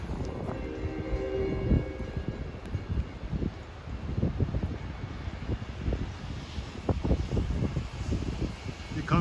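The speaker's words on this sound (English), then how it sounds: "Here comes 76 with the D30AC 422, a retired Long Island Railroad engineer's favorite" A Long Island Rail Road train hauled by D30AC locomotive 422 rolls through falling snow on the Montauk Branch, a steady low rumble with wind buffeting the microphone and tonal horn-like bands early on, while someone talks over it.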